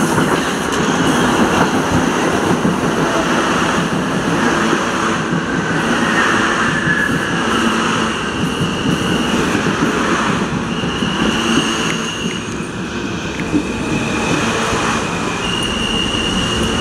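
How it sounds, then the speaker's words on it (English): A New York subway train rumbles past with steady, loud clattering wheels and metallic screeching for the whole stretch. There is no talk. "Train is coming."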